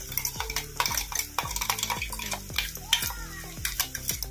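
A spoon scrapes and stirs cabbage curry with green chili paste in a pan, giving a rapid run of rhythmic, close scraping strokes with a soft sizzle and no talk.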